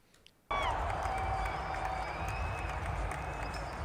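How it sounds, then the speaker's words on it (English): A stadium crowd bursts into a standing ovation, with loud sustained cheering and applause starting abruptly and holding steady, with whistles on top. "let's start off with the crowd pumping him up with a standing ovation"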